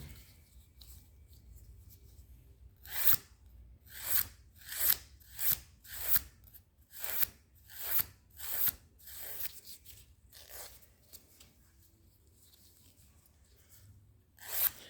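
A nail file rasps over toenails during a pedicure demonstration, with a run of about a dozen quick, rhythmic strokes of soft close scraping, then a few slower strokes fading out, and no talking.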